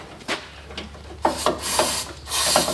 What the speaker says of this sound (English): I'm going to clean these contacts up one last time